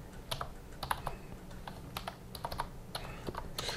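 Someone types a domain name on a computer keyboard, with quiet, close keystroke clicks coming in quick uneven bursts.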